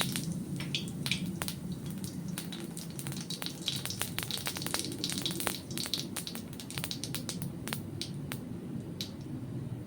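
Whole cumin seeds crackle and sizzle in hot oil during tempering, a steady frying hiss with dense, sharp pops scattered throughout, close and continuous with no voices.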